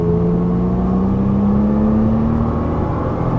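An Audi race car accelerates as the throttle rolls on, its engine note rising smoothly in pitch in a loud, continuous drone heard from inside the car.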